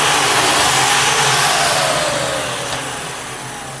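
A dust extractor running in a woodworking shop, a loud, close, steady whooshing roar with a hum underneath, gradually easing off toward the end.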